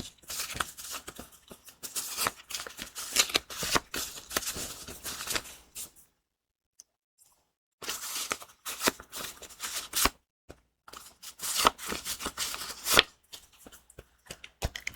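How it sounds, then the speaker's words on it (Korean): Tarot cards shuffled and drawn during a quiet whispered reading, with dense close crisp riffling and flicking in bursts, separated by a few seconds of silence. "카드 2장을 더 뽑아보도록 할게요"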